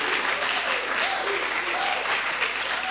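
An audience at an academic life seminar applauds continuously, a dense even wash of clapping from many hands welcoming a speaker.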